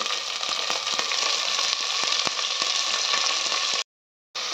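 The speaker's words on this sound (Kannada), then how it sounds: "ಈಗ ಸೊಪ್ಪನ್ನು ಹಾಕಿ ನಾನು 1 ನಿಮಿಷ ಚೆನ್ನಾಗಿ ಮೀಡಿಯಮ್ ಫ್ಲೇಮಲ್ಲಿ ಫ್ರೈ ಮಾಡ್ಕೊಂಡಿದ್ದೀನಿ" Methi (fenugreek) leaves fry in oil over a medium flame, giving a steady, close crackling sizzle with light stirring scrapes, cut briefly by a short stretch of silence near the end.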